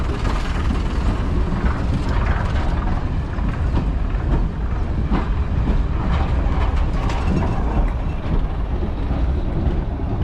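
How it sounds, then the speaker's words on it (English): A diesel multiple unit train on the Severn Valley Railway reverses slowly into a station, a steady, continuous rumble of engine and rolling stock close by, fairly loud throughout with no talking. "Just reversing into Bewley now is the DMU, ready to do a little shuttle down"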